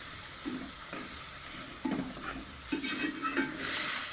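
Quiet sizzling of spices with turmeric frying in a pan for chicken bhuna masala, with a few soft scraping stirs at intervals and the hiss swelling toward the end; no talking.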